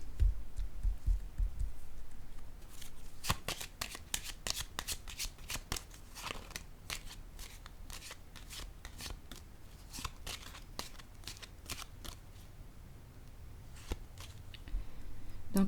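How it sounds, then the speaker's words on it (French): Tarot cards are handled, shuffled and laid down at close range, a quiet stream of crisp flicks and soft slaps in uneven rapid bursts. "Je vais déposer une carte ici."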